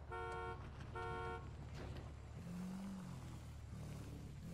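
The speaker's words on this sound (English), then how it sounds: "Whoever's car that is, stop beeping." A car horn in the video game GTA beeps twice in short honks, loud and close, over a low engine rumble that carries on after the beeps stop.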